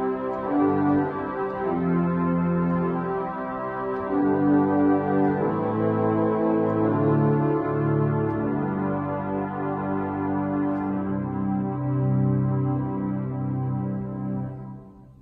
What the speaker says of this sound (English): So here is the sound of the string division all together.